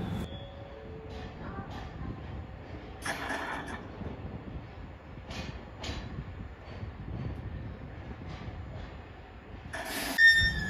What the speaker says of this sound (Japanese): さあ、貨物列車の出発です。